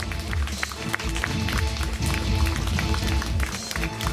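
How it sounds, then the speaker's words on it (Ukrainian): An audience applauding at the opening of the ninth Taras Shevchenko Festival, a steady crackle of many hands clapping with a low rumble beneath, loud and sustained throughout. "Друзі, вам плескають, подивіться."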